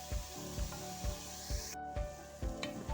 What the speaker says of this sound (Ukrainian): і моркву і цибулю відправляю у мультиварку смажитись